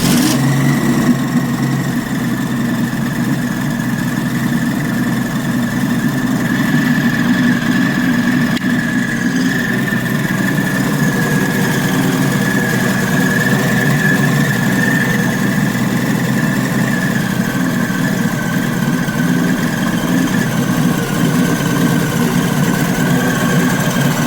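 A 1966 Ford Falcon engine catches and settles into a steady, loud idle, a continuous close-up rumble with a faint whine, running alone without voices.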